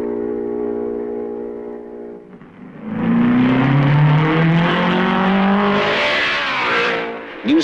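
A 1950s Formula One race car at Spa-Francorchamps approaches, its engine note rising in a loud, rasping roar as it sweeps past and then fading, with another engine droning steadily in the background beforehand.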